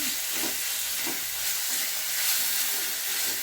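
Chicken sautéing in a pan for samosa filling gives a steady, close sizzle and hiss, with faint stirring scrapes recurring about every half second and no voices.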